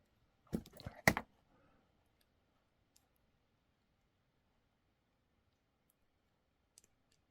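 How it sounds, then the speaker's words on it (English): Jewelry wire is snipped with cutters, a quick cluster of close sharp clicks followed by near silence with a couple of faint ticks later, no talking. "I'm going to cut."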